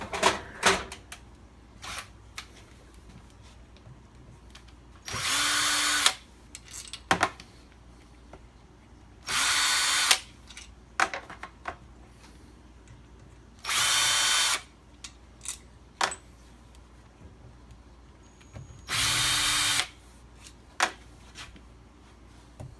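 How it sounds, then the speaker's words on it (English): A power drill whirs in four short bursts, each about a second long, removing clutch bolts, separated by quieter clinks and handling noises. "I go around with my drill and just zap them off"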